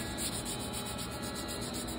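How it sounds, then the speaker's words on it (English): Steady rubbing of 320 grit sandpaper on the wooden stock of a flintlock rifle, a continuous close, even scratchy hiss lasting a couple of seconds with no talk. "Come in here and start sanding."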